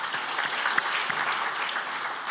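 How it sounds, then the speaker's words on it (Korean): A church congregation at a men's mission prayer meeting applauds a missionary, a steady dense patter of many hands clapping throughout, moderately loud and without speech. "우리 선교사님께 다시 감사의 박수를 드리겠습니다"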